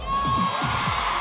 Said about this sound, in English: Dan, look at this crowd